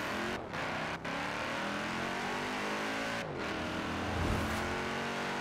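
Several cars rev and surge off the line at a multiplayer race start in Forza Horizon 4, a dense, steady engine roar with harmonic whine that swells near the end, no talking.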